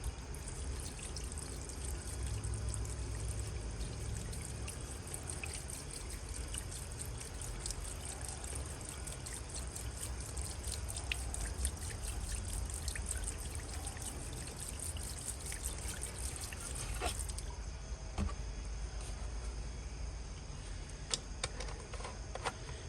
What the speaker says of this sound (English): all we do is pour antifreeze down these holes